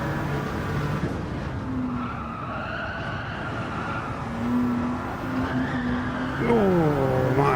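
Car tires squeal and skid through a power slide in Gran Turismo 7, a wavering screech over a continuous engine drone that swells and shifts pitch toward the end.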